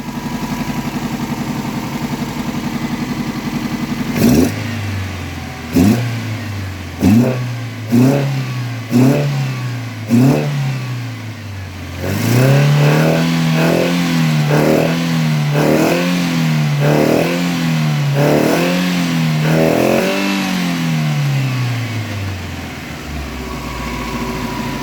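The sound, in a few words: Toyota Corolla 4A-F engine with Solex carburetors revving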